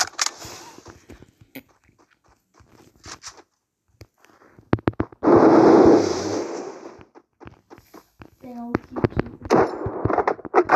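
Gunfire in a video game, sharp rapid shots in short bursts with one dense loud stretch of firing mid-clip, heard among other game noises.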